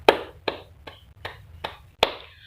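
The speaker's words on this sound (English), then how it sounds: "Applause to both of them." Sharp separate claps ring out for two quiz winners, six crisp strikes at an even pace of roughly one every 0.4 seconds in a quiet room, sounding like only a few hands.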